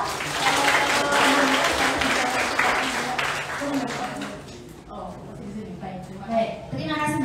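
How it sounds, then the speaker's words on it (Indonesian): Applause from a seminar audience on the role of women through the ages, a dense steady patter for several seconds that thins out as a voice speaks over the tail. "Tepuk tangan sekali lagi untuk kita"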